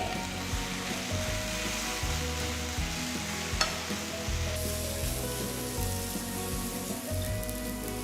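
Gongura leaves wilting in a hot pan make a steady, hissing sizzle, rather like light rain, that runs throughout beneath a layer of background music.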